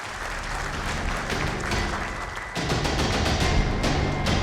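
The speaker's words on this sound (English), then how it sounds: "let's hear a bigger applause once again" Audience applause at a machine-tool company's customer meet in Pune, sustained clapping from a hall crowd that swells louder partway through.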